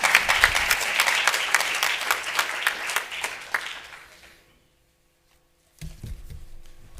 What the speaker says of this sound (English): Applause is okay now.